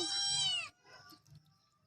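A kitten gives one loud, close, drawn-out meow, followed by faint, soft shuffling sounds.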